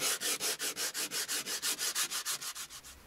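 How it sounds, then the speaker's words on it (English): Hand sanding over patched repairs inside a sailboat hull, a brisk regular rasp of about seven back-and-forth strokes per second, close and steady, with no talking. "so those two patches, they're all sanded up"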